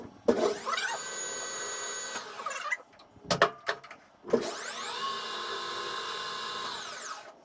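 A metal lathe parting tool cuts a reamer bushing for a 7/64-inch reamer in close, whining passes that rise and settle, broken by short clicks and knocks between two longer cuts.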